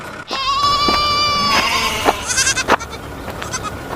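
Goats bleat outdoors in a long, steady call and then shorter overlapping cries, fairly close and loud, with little else around them.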